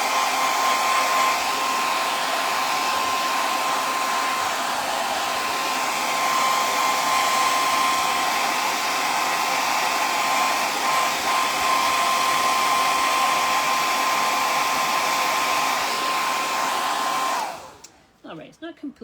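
A heat gun blows a steady, loud whooshing roar while drying paint on a painted tire swing, running continuously alone before switching off near the end.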